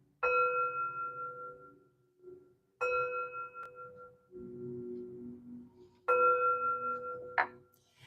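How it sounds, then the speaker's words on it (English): Three bright metallic chimes ring out one after another, each sustaining and slowly fading, with soft shuffling between strikes. "3 chimes to bring in positive energy"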